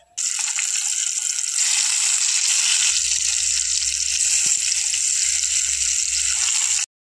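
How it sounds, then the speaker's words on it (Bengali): Tomatoes hit hot white oil in a wok, setting off a loud, steady sizzle that holds without a break for about six and a half seconds, then cuts off abruptly. "এখন আমার তেলটা মোটামুটি গরম হয়ে গেছে। এর মধ্যেই এখন দিয়ে দেব টমেটোগুলো।"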